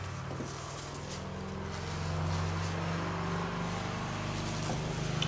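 Road traffic drifts in through open windows of a room where soap is being made, a steady low rumble of passing vehicles that swells slightly midway and continues without speech.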